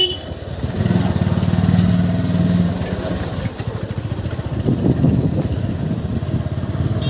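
A motorcycle engine runs steadily at close range with a mid-pitched drone and small throttle swells as the rider sets off from a house at the start of a bike trip, heard alone without talk.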